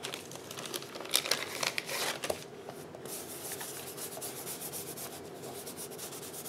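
An embossing buddy anti-static pouch is rubbed over card stock, making a close, soft, continuous scrubbing and crinkling sound with brisker strokes at the start that then settle into an even rub.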